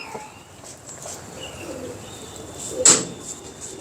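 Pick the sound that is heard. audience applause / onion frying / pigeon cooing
pigeon cooing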